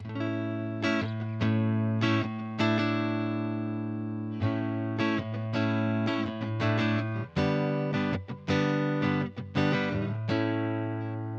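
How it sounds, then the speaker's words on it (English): An electric guitar plays alone through an amp with no effects, ringing clean chords and single notes that sustain and overlap, loud and close with a bright, full tone. "this is just a clean sound straight into the amp with nothing on at all"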